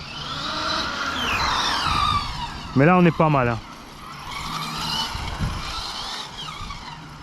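Hobao VTe2 El Camino VXL8S RC car with an electric motor whines and revs up close under ongoing talk, its pitch rising and falling, with a brief sharp squealing burst midway.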